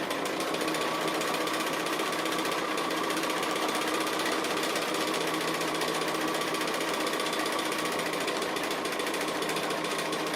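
A sewing machine runs continuously at a fast, even stitching rate while free-motion echo quilting a Hawaiian-style quilt, its close mechanical chatter steady and unbroken with no talking.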